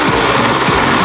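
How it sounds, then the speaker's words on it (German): A helicopter engine keeps running on the ground at a parachute target-jumping competition, giving a loud, steady turbine whine and rotor drone throughout without any talking. "Spektakulär, weil es ein Hubschrauber ist."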